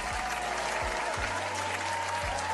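An audience breaks into steady, loud applause, a dense uninterrupted wash of many hands clapping close by, with a few low thuds underneath and no talking.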